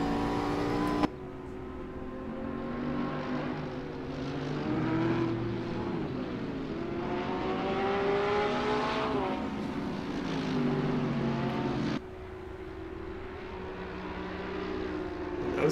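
Race car engines of a McLaren and a Porsche roar loudly around Imola in a sim racing game, with rising and falling revs, shifting pitch, and abrupt gear changes near the start and again toward the end.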